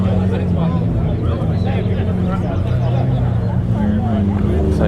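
Lamborghini, McLaren and Ferrari supercars rumble and roar nearby, a dense continuous engine noise swelling slightly as they roll along a reopened road.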